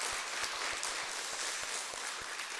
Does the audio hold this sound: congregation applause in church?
yes